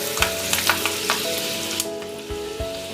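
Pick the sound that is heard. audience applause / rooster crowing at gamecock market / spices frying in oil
spices frying in oil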